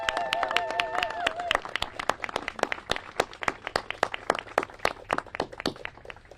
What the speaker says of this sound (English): We elected officials want to give all of you a round of applause.